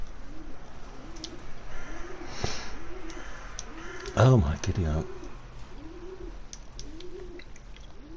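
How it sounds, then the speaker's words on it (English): Pigeons coo repeatedly at a steady rhythm near a balcony, soft and moderately distant, while a person talks over them. "I can hear the pigeons, but they're not coming to sit on my balcony."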